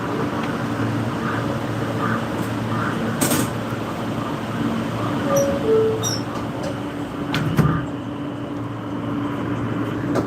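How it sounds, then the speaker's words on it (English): An express subway train runs at speed, giving a steady, loud rumbling roar with faint squeals and rattles from inside the carriage throughout, no clear talk. "I love when the train go express"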